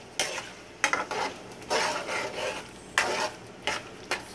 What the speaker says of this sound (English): So what we do is we keep stirring the tomatoes